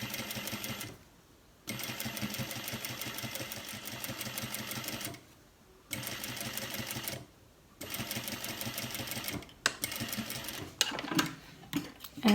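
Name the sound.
sewing machine stitching a pocket flap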